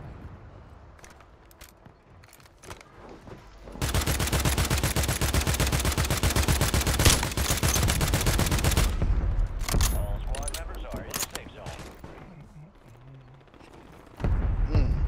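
Gunfire in a shooter video game: a long, rapid automatic burst of close, loud shots, followed by scattered single cracks and the start of another burst near the end.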